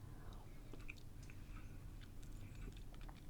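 Someone tastes homemade blueberry jam from a spoon, with faint, close, soft chewing and small mouth clicks for a few seconds.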